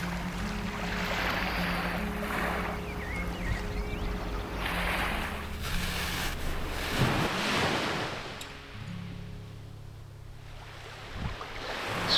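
Waves on an empty Scottish beach beside a camp, a continuous rushing wash of surf rising and falling with rumbling wind buffeting the microphone, no voices.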